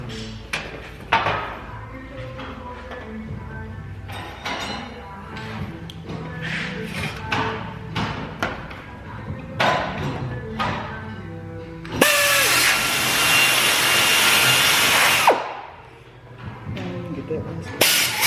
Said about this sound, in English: take my air shear, thanks Astro Tools, and go ahead and get this section all hacked out of here